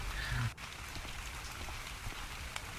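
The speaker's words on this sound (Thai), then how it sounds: "ฝนตกเนี่ย" Steady rainfall patters continuously over a lake setting in the survival game ARK: Survival Evolved, a dense, even hiss with scattered drops, heard alone with no talk.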